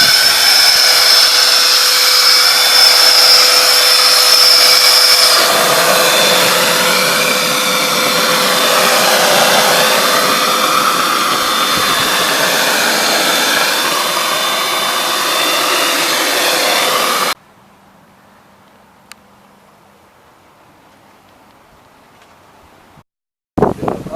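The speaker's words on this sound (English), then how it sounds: "Turn on our turbine and ready to go." A Wagner texture sprayer's turbine runs loud and close with a steady, high-pitched whine, holds for about seventeen seconds, then shuts off to near silence.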